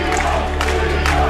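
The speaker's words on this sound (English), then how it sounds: "And listen to this crowd." A wrestling crowd at an independent pro wrestling show roars in a dense, loud, continuous wash of cheering and shouting, brief and close.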